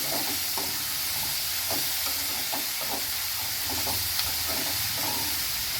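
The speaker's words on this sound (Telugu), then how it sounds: "కాకరకాయలు చిన్న ముక్కలు కట్ చేశానండి ఇదండి వేసుకుంటున్నాను బాగా వేయించుకున్నామండి" Small pieces of bitter gourd fry in a pan with a steady, loud sizzle and hiss, punctuated by soft scraping stirs at irregular intervals.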